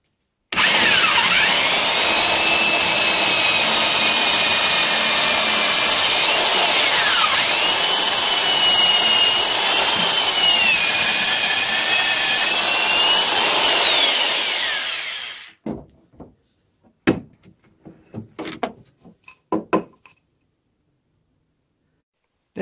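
A power drill whines steadily through wood for about fifteen seconds, its pitch dipping and rising under load, then stops, followed by a few scattered knocks and clatters.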